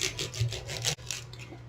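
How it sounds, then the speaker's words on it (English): A wooden dowel rolls back and forth over jewelry wire on a hard surface to straighten it, producing rhythmic soft rubbing strokes, about five quick passes followed by quieter scraping, close up. "use the pin, my wooden dowel, to roll out the wire like a spaghetti noodle"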